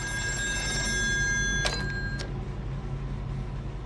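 A telephone rings in the video game Still Wakes The Deep. A sustained electronic bell tone sounds for about a second and a half, ending in a couple of sharp clicks, over a steady low hum.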